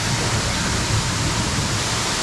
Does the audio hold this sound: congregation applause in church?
no